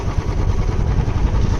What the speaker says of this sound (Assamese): বাইক বৰ্তমান মই চলোৱা নাই, মোৰ লগৰটোৱে চলাই আছে।